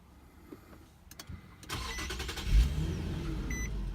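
A push-button start brings an Infiniti QX70 to life: a faint beep and a few clicks, then the engine cranks, catches with a loud rev and settles into a steady idle.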